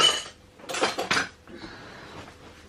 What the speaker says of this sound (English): So just gently give it a stir.